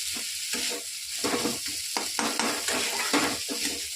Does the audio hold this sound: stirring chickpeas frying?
yes